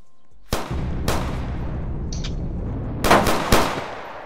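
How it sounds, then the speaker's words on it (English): Loud gunshots in the street-life video game Tha Bronx 2, single sharp cracks followed by a quick cluster of several shots, ringing over a low background rumble. "Stop fucking shooting, gang."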